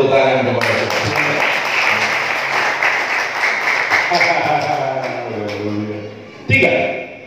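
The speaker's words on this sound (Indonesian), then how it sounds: "Kasih tepuk tangan kepada Tuhan" A church congregation claps and cheers in praise during an Indonesian sermon, a steady wash of applause that swells, then fades into the preacher's amplified voice, with a brief burst near the end.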